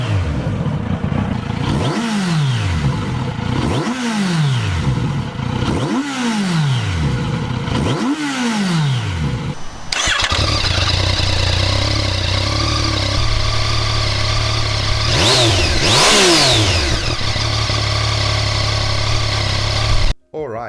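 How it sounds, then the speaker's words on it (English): A Kawasaki Z900RS and a Yamaha XSR900 rev repeatedly in sharp rising and falling bursts, then the second bike idles with a deeper steady rumble and a couple more throttle blips. "So let's have a listen to both of the exhausts."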